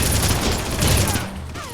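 Turret gunfire in the Red Faction video game: loud, dense rapid-fire bursts that roll continuously before easing slightly near the end.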